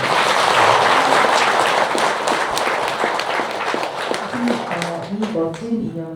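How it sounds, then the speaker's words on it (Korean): A Buddhist congregation at a temple dharma service applauds a visiting monk. The clapping is loud and dense and fills the hall, then thins to scattered claps near the end, with some voices mixed in. "먼 길을 와주신 스님께 큰 박수 부탁드리겠습니다"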